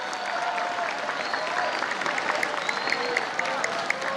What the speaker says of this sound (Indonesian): Ya, tepuk tangan untuk anak-anakku semuanya